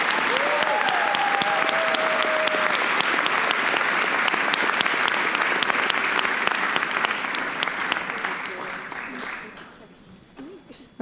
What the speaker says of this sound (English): a big round of applause for this group